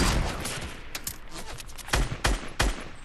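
Gunfire in a video game: a few sharp, loud shots and short bursts punctuate a steady background din, with the heaviest cracks landing late in the stretch.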